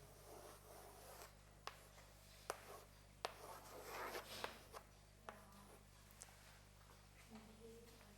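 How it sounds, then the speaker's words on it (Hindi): Handwriting during a reading lesson: a pen scratching out quick strokes close by, with a few sharp taps as it touches down, fairly quiet throughout with no talk. "अभी मैं लिख के आपको दिखाता हूं"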